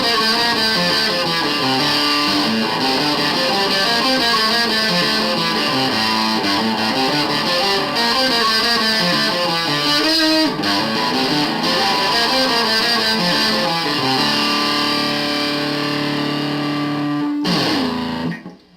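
An acoustic guitar run through a distortion effect and amp, playing a continuous gritty, saturated riff with sustained chords and note runs, loud and up close, ending abruptly near the close.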